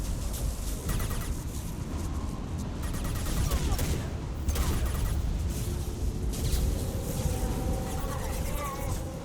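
Rapid bursts of gunfire crackle through a Mass Effect 2 firefight, repeated shots in clusters over a dense battle din, with voices talking over the shooting.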